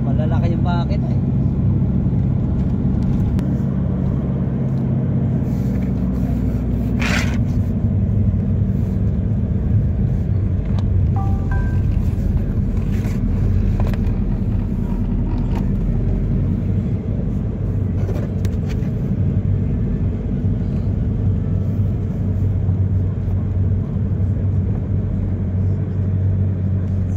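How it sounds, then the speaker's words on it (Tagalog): Passenger jeepneys with big engines pass close by on a road, a continuous low rumble of motors and traffic with occasional swells, while people talk over it. "Dinaanan nga lang kami ng mga pampasayeros ng jeep dito eh."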